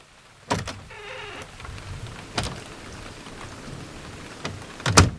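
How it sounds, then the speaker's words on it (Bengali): Soft, steady patter of light rain with a few sharper, louder knocks and thuds scattered through, no voices. "বাইরে তখনও ঝিরিঝিরি বৃষ্টি হচ্ছে।"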